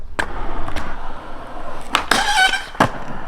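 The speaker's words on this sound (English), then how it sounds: "That's just the edge of the wheel rubbing super hard against the flat bar and causing it to squeal really loud" Powell Dragon skateboard wheel edge grinding against a flat bar during a feeble grind, a few sharp scraping impacts followed by a brief high squeal, fairly close and loud.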